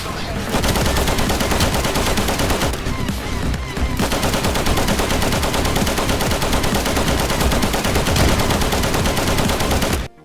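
Sustained automatic machine gun fire from a support gunner's heavy weapon in the World War II shooter Easy Red 2. Loud, dense bursts run almost the whole time, with a brief thinner stretch early on, before stopping abruptly at the end.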